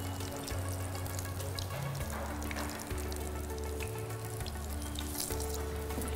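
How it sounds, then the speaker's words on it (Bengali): Eggplant slices fry in a pan, giving a steady, close sizzle that holds level throughout, with a low rumbling kitchen hum underneath and no talk. "বেগুন ভাজা আমাদের হয়ে যাচ্ছে হ্যাঁ আমার বেগুনটা প্রায় হয়ে গেছে"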